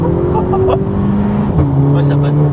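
A Volkswagen Polo 6 GTI with a custom stainless exhaust accelerates hard nearby, its loud engine rising in pitch, dropping at a gear change, then climbing again, with a voice briefly audible underneath.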